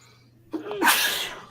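A single sneeze, close and sharp: a short intake of breath, then a loud burst of air.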